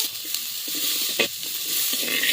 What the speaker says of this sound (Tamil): வெங்காயம் இஞ்சி பூண்டு இப்ப ஃப்ரை பண்ண போறோம்.